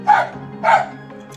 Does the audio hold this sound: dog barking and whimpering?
yes